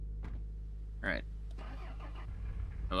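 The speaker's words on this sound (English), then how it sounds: "There's a car right there!" A car engine in the video game Mon Bazou cranks and catches in short bursts, fairly quiet under a steady low hum, with talk over it.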